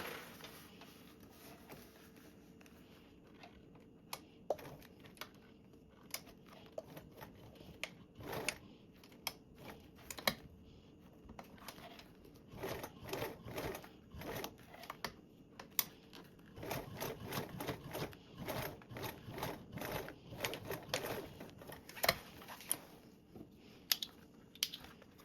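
A sewing machine top stitching a Pandora Charisma pattern panel runs in short irregular bursts of rapid stitching separated by quiet pauses, close and fairly soft, with no talking.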